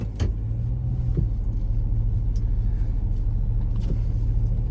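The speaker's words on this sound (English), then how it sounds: "So let's start driving." Car driving on a road from Apple Valley toward White Bear Lake, Minnesota, heard from inside as a steady low engine and road rumble with a few faint clicks, no talking.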